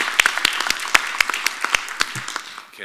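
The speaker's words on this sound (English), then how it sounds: "We can give an early round of applause for everyone." A room full of people at a school board meeting gives an early round of applause, with distinct claps in a brisk rhythm that thins out at the end.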